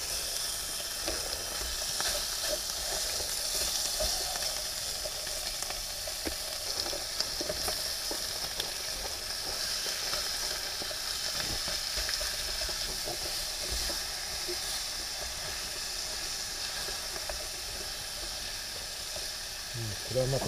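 Teriyaki sizzling in a pan on a camp stove at a car-camping spot, a constant close hiss and crackle running throughout, with faint bursts of voices in the background.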